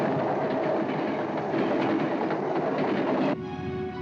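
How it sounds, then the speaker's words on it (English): A train rolls past in a steady, loud rush of wheels and carriages with rhythmic clickety-clack, then cuts abruptly to a quieter, tonal hum near the end, as a film sound effect. "No, another train. and another train, and another"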